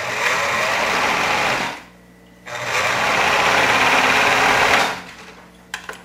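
A sewing machine stitches the short ends of a waistband and its lining together in two loud, steady runs of fast mechanical whirring, with a brief pause between them and a few small clicks at the end.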